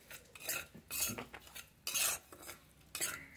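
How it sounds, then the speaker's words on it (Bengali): Semolina dry-roasted in an ungreased kadai, with a spatula scraping and clinking against the metal pan in four distinct bursts separated by quieter gaps. No one speaks. "প্রথমে আমি একটু শুকনো খোলায় সুজিটা ভেজে নেব"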